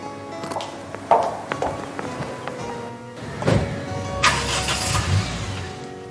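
A car door thunks shut, then the engine starts and the car pulls away, with footsteps and knocks before a rising engine hum, fairly loud and close, no talking.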